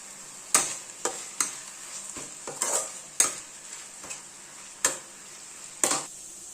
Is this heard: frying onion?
yes